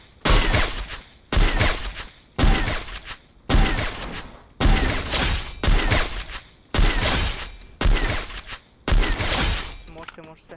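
A wall being blasted apart in a mobile battle-royale shooter: about nine loud, sharp crashing bursts in an irregular rhythm, each ending in a short crumbling shatter, close and dominant.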